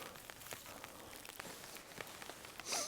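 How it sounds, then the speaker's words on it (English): Light rain patters steadily in the wilderness at a solo campsite, with scattered soft drops tapping a surface, faint and close, ending in a brief louder rustle. "There's still a little bit of rain falling"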